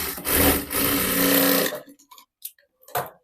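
A sewing machine stitching a hook strip onto a blouse, a loud close rapid mechanical whir running about a second and a half, then stopping, followed by a few faint clicks and handling sounds.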